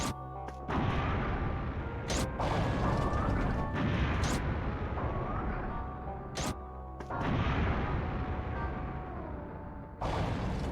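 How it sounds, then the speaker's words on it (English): Heavy, continuous rumbling blasts from grenades exploding in the Robot Alchemic Drive video game, loud and dense throughout, broken by several sharp broadband bursts, with no talk over them. "I am throwing insanely powerful grenades at it."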